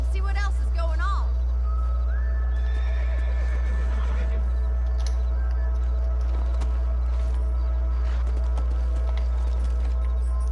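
Horses in the Red Dead Redemption video game whinny near the start, followed by quieter hoof clops and movement under steady low background noise, with a voice speaking briefly.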